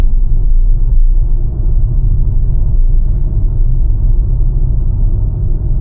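Low, steady engine and road rumble from inside a training car driving straight along the road, a constant dense drone with no talk.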